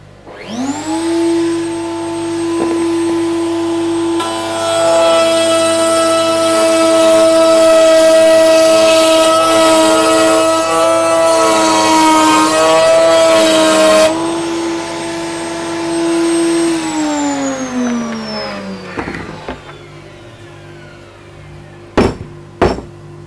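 A table saw fitted with a dado stack spins up to a loud steady whine, then rises to a harsher roar as the blades cut through wood, before winding down, followed by a couple of sharp knocks.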